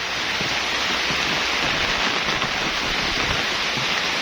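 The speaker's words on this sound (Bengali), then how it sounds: "প্রচণ্ড বৃষ্টি হইতেছে" Heavy rain pours steadily over a banana field, a dense, continuous hiss of water striking broad leaves and wet ground, loud and close throughout with no voices.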